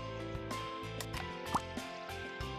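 A seed being watered in the video game Scribblenauts Unlimited gives a faint watery splash and drip effect over soft, steady game music.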